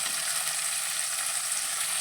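Paneer cubes fry in oil in a kadai for dhaba-style kadai paneer, giving a loud, unbroken sizzling hiss close by with no voices.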